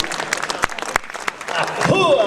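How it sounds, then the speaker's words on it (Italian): A short burst of audience applause at a Christmas-time gathering honoring master cassata makers: a quick patter of hand claps, then voices rising over it near the end. "facciamo un applauso ancora qua ai maestri cassatari"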